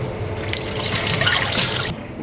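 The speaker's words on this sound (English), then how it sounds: "And then last, sweet corn. Yeah, I wash this one first." Sweet corn rinsed under a running kitchen tap while making Thai spring rolls, a close, steady gush of water splashing for about two seconds before cutting off, with no talking.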